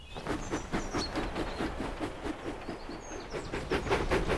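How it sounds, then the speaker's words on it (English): Thomas the Tank Engine, a cartoon steam locomotive, puffs quickly out of a station with a steady rhythmic chuffing and hiss, continuous and fairly close, with faint high whistle-like tones above. "He pumped his pistons and puffed quickly out of the station"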